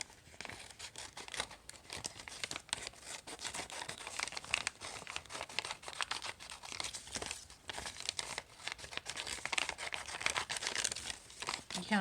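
Paper being cut into a butterfly shape, with close, quiet crinkling and crisp snipping and rustling that carries on throughout.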